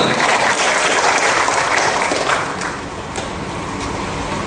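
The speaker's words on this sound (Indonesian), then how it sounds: "tepuk tangan untuk kita semua" Loud, dense applause from a large audience at a motivational seminar, steady for a couple of seconds, then easing to a softer continuous patter.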